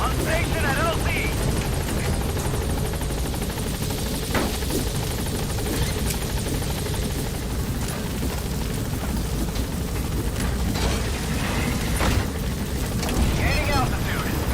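P-Quad, a helicopter in Metal Gear Solid V: The Phantom Pain, holds near a landing zone with a loud steady rotor roar throughout while game dialogue and radio voices speak over it.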